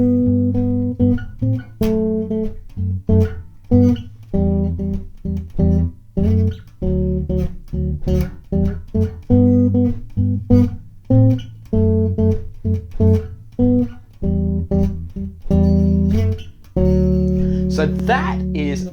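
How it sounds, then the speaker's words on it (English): A bass guitar plays major and minor tenth chords, each two-note chord plucked in a steady sequence of sustained, resonant notes, close and clear, ending with a longer ringing chord. "that is the sound of the tenth"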